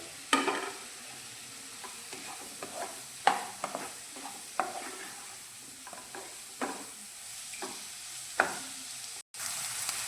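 Onion, tomato, ginger, garlic and chilli fry in a pan for besan bhurji, giving a soft steady sizzle broken by repeated stirring scrapes and taps, close but fairly quiet, with a brief gap near the end.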